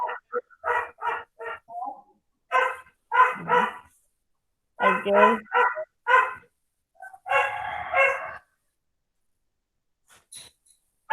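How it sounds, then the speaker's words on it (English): A dog barks in rapid bursts of several loud, close barks, separated by short pauses, clearly audible during an online class; a voice briefly speaks at the start. "whose dog is that?"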